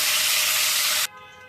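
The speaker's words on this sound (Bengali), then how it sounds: "মাছগুলোকে একটু ভেজে নেব।" Fish frying in hot oil in a home kitchen, a loud, steady broadband sizzle that carries on evenly for about a second before cutting off abruptly, leaving only a faint tonal residue.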